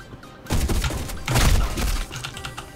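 Shotgun blasts in the shooter Black Squad, heavy booming shots with one loud burst near the start and a second stronger one midway, each trailing into clattering game noise.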